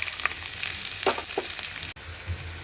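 Chopped garlic and ginger fry in sesame oil in a pan, a busy crackling sizzle broken by scraping stir strokes and a brief hard knock.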